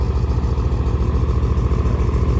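A heavy railway ballast maintenance vehicle's diesel engine idles while warming up, a loud, steady low rumble with a continuous mechanical clatter and no voices.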